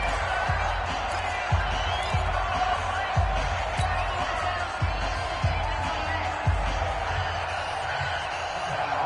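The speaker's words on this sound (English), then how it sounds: "The crowd getting into it as we come up on a big 3rd down." A stadium crowd in a PS4 football game featuring the 49ers swells and roars ahead of a big third down, a steady broad wash of cheering with periodic low thumps beneath it and faint talk.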